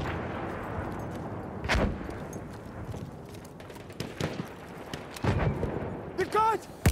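Mosin-Nagant 1891 rifle shots in a video game on a desert map, a few sharp isolated cracks spaced seconds apart amid battlefield ambience, with voice chatter near the end.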